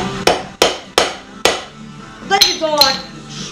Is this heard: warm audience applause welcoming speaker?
no